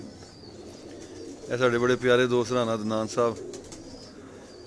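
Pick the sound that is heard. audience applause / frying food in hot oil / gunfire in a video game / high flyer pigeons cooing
high flyer pigeons cooing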